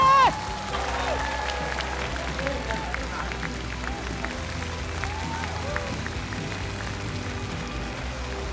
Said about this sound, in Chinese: 观众朋友们，用最热烈的掌声送给三位优秀的演员